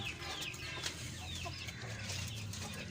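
Pakistani Aseel chickens kept as a pair in a poultry setup, clucking softly and steadily over a constant low hum, with no talk.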